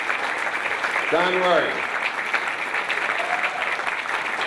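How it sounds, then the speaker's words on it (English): A seated audience at an author's talk breaks into sustained applause, steady broadband clapping throughout, while a voice calls out over it briefly. "So I'd like you all to stand up, give Don a big round of applause."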